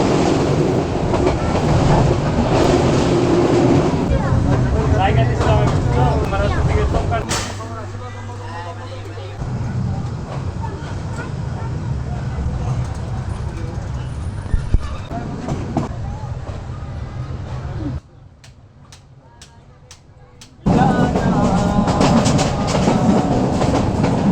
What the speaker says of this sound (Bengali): বৃষ্টি ভেজা দৌলতকান্দি স্টেশনে একটি কমিউটার ট্রেন আসল